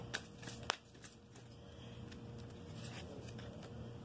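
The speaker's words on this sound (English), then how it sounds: "I'm shuffling one more time to see if there's anything else that wants to come out." Tarot cards being shuffled by hand, soft quiet riffling and sliding with a few sharper snaps near the start, then a steady low rustle, close and alone without talk.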